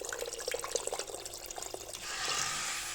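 Hot water is poured over potatoes in an Algerian home kitchen, a soft running splash that swells into a steadier, fuller pour near the end.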